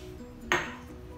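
A small glass bottle being handled in a kitchen, producing a single sharp clink that rings briefly and fades in a quiet room.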